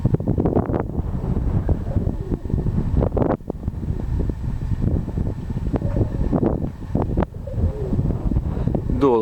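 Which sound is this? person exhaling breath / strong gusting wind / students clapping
strong gusting wind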